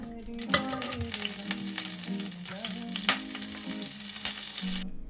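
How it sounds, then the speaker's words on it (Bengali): Chopped garlic sizzles in white oil and butter in a wok, a close, steady crackling hiss with occasional sharp spatter pops and utensil scrapes as it is stirred, with no talking. "কড়াইয়ে একটু পরিমাণে সাদা তেল আর বাটার দিয়ে দিয়েছি এবার এর মধ্যে দিয়ে দেবো রসুন কুচিটা"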